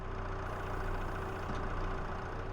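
Tractor engine idling in Farming Simulator 22, a steady low rumble with a constant drone that holds even and close throughout, with no other sounds on top.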